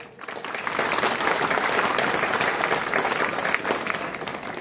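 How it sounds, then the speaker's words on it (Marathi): A crowd applauds the singers at a live devotional performance with mridang accompaniment and a sound system, a full, sustained burst of many hands clapping together that swells quickly and holds steady without any talking. "आता पहिल्यांदा टाळे होऊ द्या गायनाचार्यांसाठी."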